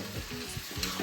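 Poha is sautéed in a pan, a short burst of close, steady sizzling with soft stirring scrapes and no voices.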